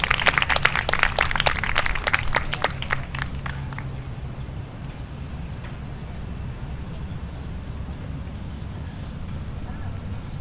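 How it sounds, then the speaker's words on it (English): Crowd at a higher education day-of-action rally claps for the speakers, a lively burst of applause for about four seconds that fades into quiet outdoor room tone. "Let's give them a round of applause."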